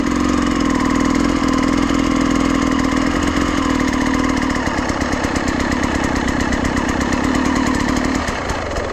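Enduro motorcycle engine held at a steady rev while the rider slips the clutch, a loud, continuous, gritty drone with slight wavering pitch throughout and no talking.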